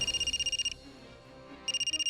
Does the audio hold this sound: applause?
no